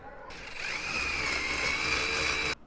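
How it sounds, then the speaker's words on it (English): A power drill whirs up through a plastic template and holds a steady high-pitched whine for a couple of seconds, then cuts off abruptly. "when you're drilling holes using plastic templates, drill slow"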